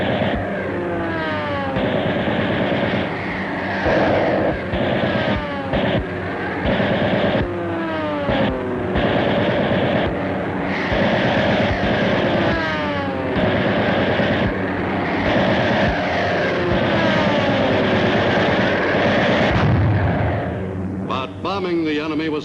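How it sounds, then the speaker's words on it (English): Roaring Pacific air combat in which bombers and Japanese fighter planes clash amid heavy anti-aircraft flak, a dense, loud wall of engine drone with repeated swooping dives, blasts and rumbling explosions that continue throughout, then fade toward the end. "Besides the heavy flak which the enemy threw up, the attacking bombers had to cope with Japanese fighters."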